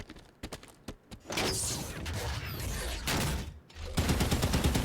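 Mantis mech machine gun fire in the video game Halo 5 comes in dense, loud sustained bursts with thuds and impacts, broken by short gaps, after a few sharp isolated shots.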